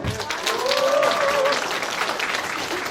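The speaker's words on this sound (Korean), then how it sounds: "감사의 박수를 좀 크게 치셔야 될 것 같습니다" Crowd applause at a Democratic Party members' gathering in Incheon as guests are introduced: close, dense clapping from many hands, steady and loud throughout, with a voice faintly audible underneath.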